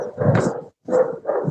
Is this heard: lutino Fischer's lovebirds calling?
no